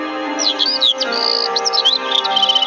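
A small bird chirps in quick bursts of high, twittering tweets, close and clear, with brief pauses between runs of rapid notes.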